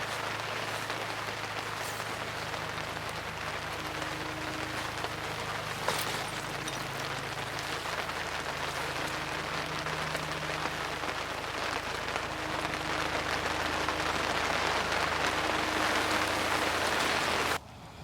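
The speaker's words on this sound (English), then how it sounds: "it is smashing it down with rain" Heavy rain pours steadily onto a fishery lake during flooding, a dense continuous hiss of drops on water and surfaces with a low rumbling undertone, loud and close throughout before cutting off abruptly at the end.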